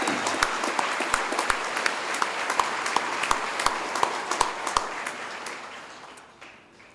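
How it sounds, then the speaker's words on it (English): Applause for graduates at a college commencement ceremony: a large crowd claps steadily in a big hall, with a few sharper individual claps standing out, then the applause fades toward the end. "please help me give all of our hardworking graduates a well-deserved round of applause."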